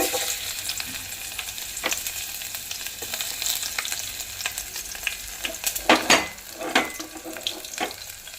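Garlic with cumin, mustard seeds, chana dal, urad dal and dried red chilies frying in oil in a pot for Andhra-style palakura pappu tempering, a close crackling sizzle with louder sputtering bursts and stirring scrapes.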